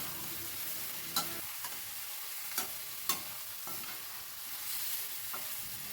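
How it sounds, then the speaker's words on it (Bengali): Chicken pieces and onions are stir-fried in a pan, a soft steady sizzle broken by several sharp scrapes and knocks of the spatula against the pan. "বেশ খানিকক্ষণ নাড়াচাড়া করে নিলাম, এই মিনিট 2 মতন।"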